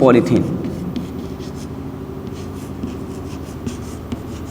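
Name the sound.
writing on a board during a lecture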